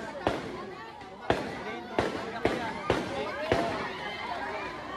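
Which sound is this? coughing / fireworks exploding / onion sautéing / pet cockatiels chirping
fireworks exploding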